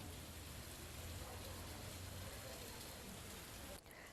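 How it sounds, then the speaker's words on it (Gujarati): A steady downpour hisses across the Kamrej area of Surat, Gujarat, during a Navratri storm. The rain is an even, continuous wash with no distinct thunderclap standing out. "વીજળીના કડાકા ભડાકા સાથે શરૂ થયો વરસાદ"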